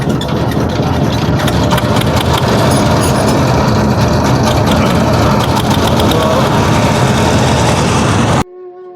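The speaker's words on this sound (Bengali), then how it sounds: "এই হচ্ছে টলারটা আপনার স্টার দেওয়া হচ্ছে" A trawler boat's engine on the Padma river runs loud and close with a steady chugging rumble and clatter, then cuts off abruptly near the end.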